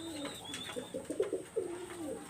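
Pakistani highflyer pigeons cooing in a loft, a string of soft low throaty coos repeating close by, with faint higher chirps and background hum.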